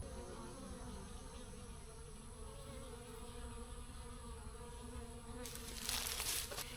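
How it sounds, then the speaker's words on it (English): Honey bees hum beside a pond on a hot day, a faint, steady swarm drone with layered buzzing, joined near the end by a brief burst of brighter rustling or splashing close by. "those bees will be just humming next to this pond"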